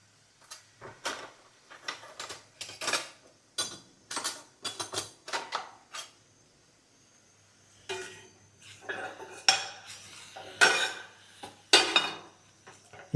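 Chilli powder ingredients being fried and stirred in a pan, heard as a series of sharp metallic scrapes and clinks of a spoon against the pan, irregular and close, with short quiet gaps between strokes.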